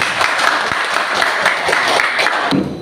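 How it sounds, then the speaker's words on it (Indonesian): A classroom group claps after finishing a presentation, a steady close wash of many hands clapping for a few seconds, dense and even in loudness, with no speech over it. "dan kita tepuk tangan dulu"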